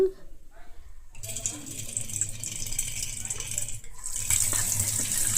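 Water runs from a tap with a steady hiss that strengthens partway through, over faint low rumbling and some quiet speech.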